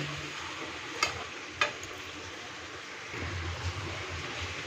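Banana flower curry with chickpeas and coconut being sautéed in a pan, a low steady sizzle with two sharp utensil knocks early on and soft stirring scrapes later.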